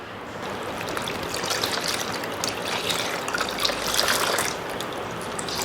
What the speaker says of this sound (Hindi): इसको हल्के हाथ से निचोड़ना है और पानी हमें घड़े जैसा ठंडा लेना है